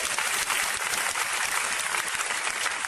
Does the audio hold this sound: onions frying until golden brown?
no